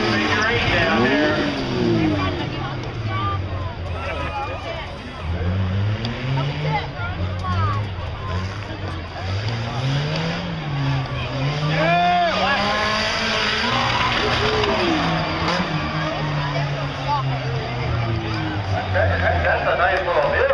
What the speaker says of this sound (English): Notice the difference between the front-wheel drive and the rear-wheel drive as they go around that figure eight down there.